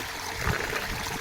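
A short stretch of water running from a pipe into a well, steady trickling flow with a brief low gurgle in the middle, close and soft, without any talking.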